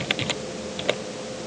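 A handful of light keyboard clicks in quick bursts, close by, over a quiet room hum.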